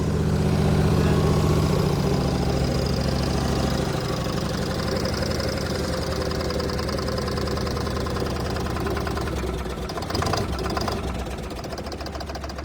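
A Dexheimer 222 tractor engine idles steadily nearby with a loud, continuous low rumble, settling slightly slower after the first few seconds, with a brief bump of noise near the end.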